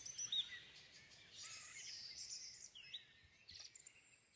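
Birds sing softly in the distance, with light chirps and tweets repeating throughout and no voices over them.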